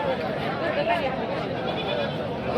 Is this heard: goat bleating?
yes